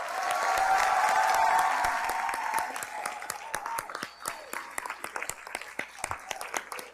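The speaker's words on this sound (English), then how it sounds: "Please give a round of applause for Solanges Vivens." An audience at a Haitian women's symposium breaks into full applause with some cheering, then thins to scattered individual claps that fade away.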